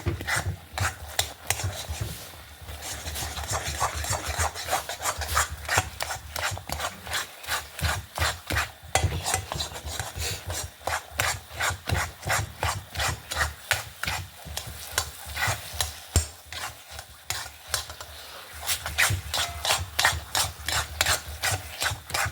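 A spoon or spatula stirs thick ragi halwa with ghee in a pan, making continuous rhythmic scraping and rubbing strokes, close and steady throughout with faint sizzling.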